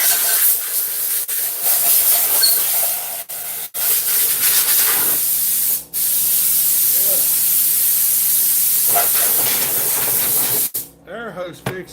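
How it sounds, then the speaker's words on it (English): A compressed-air hose blows a steady, close, broadband hiss through most of the stretch, broken by a few brief cutoffs and ending in a short gap. "Air hose fixes a lot of things."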